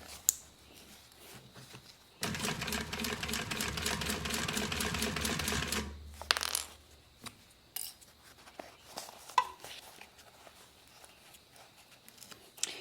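A sewing machine stitches a thigh bag in a quiet sewing room, running in one rapid, even burst of close needle clatter for about four seconds before stopping, followed by faint handling noises.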